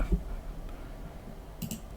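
A computer mouse gives a quick double-click, two soft, close ticks in rapid succession over faint room noise, with a lone click shortly before.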